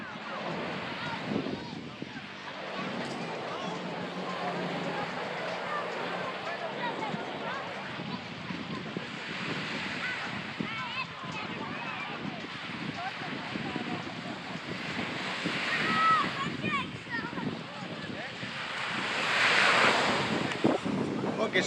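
Surf breaking steadily on Falassarna Beach in Crete, a continuous wash of waves with wind buffeting the microphone, swelling louder toward the end while footsteps and faint voices pass along the shore.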